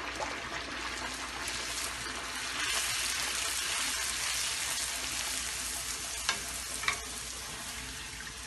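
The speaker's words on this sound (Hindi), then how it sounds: "पूरी डालते वक्त ख्याल रखिए कि तेल गर्म होना चाहिए" Puris fry in hot oil with a steady, dense sizzle and bubbling that swells slightly midway. A couple of sharp clinks come near the end. The sound is close and continuous, with no voices.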